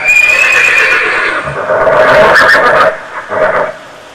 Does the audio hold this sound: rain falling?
no